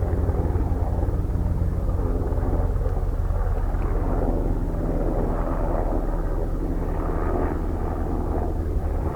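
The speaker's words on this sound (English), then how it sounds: "Looks like a Black Hawk." Black Hawk helicopter flying past over a lake, heard as a steady broadband rotor and engine roar that stays loud and even throughout, mixed with wind rush and no speech.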